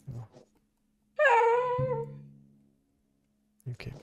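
A dog whimpers inside the video game Fear & Hunger: one drawn-out, high whining cry that slowly fades, with brief low sounds just before and after it.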